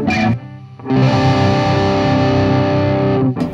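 A Paul Reed Smith Custom 24 electric guitar on a distorted, overdriven channel strums a thick, buzzing chord. A brief stab comes first, then after a short gap a long sustained ring that fades out after about two and a half seconds.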